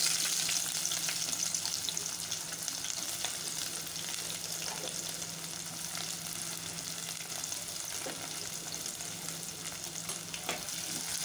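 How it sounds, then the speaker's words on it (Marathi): Onions fry in oil in a cooker for prawn biryani with a continuous close sizzle. Occasional stirring scrapes sound over it, and no one speaks. "कांदा लालसर होईपर्यंत चांगलं परतून घेऊया."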